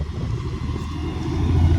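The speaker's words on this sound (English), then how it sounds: "I mean the concrete truck." Concrete truck passing close by on a school campus road, a loud low rumbling engine drone that builds slightly as it goes, with no talking over it.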